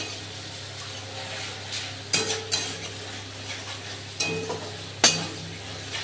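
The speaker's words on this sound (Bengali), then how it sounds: "অল্প অল্প করে আমি গরম জল দিয়ে মশলাটাকে কষবো।" Spice paste of ground chili fries in a pan with hot water added a little at a time, giving a steady low sizzle and several sharp clinks and scrapes from the stirring spoon against the pot.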